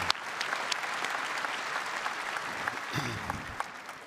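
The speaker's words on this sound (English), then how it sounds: "How about another round of applause for these fine men and women?" A crowd claps at a university graduation for the class, a steady wash of applause with a few sharper nearby claps and faint voices mixed in.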